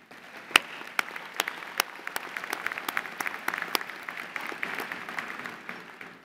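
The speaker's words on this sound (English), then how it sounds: "Students, graduates, please join me in giving your families and friends a well-deserved round of applause." An audience at a university business college graduation convocation breaks into steady applause, many hands clapping together with a few sharp, louder claps standing out near the start and continuing evenly throughout.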